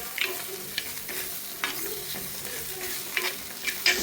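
Tomatoes frying in hot oil for a homemade South Indian rasam, a soft steady sizzle with faint stirring scrapes and light clinks, close and quiet, no voices.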